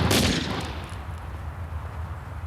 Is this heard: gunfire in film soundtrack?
yes